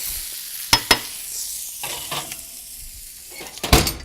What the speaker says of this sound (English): I'm going to turn these beans